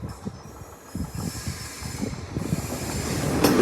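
A train passes a level crossing nearby without stopping, rhythmic clacking of wheels over the track growing louder toward the end with a brief high squeal.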